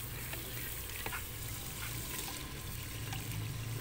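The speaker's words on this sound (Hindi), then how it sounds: "डेढ़ किलो मेरे पास चिकन है जो मैं इसमें ऐड कर दूँगी" Chicken pieces, a kilo and a half, sizzle and fry steadily in a pot with onion paste for an arbi chicken korma, a dense continuous crackle with occasional stirring clinks throughout.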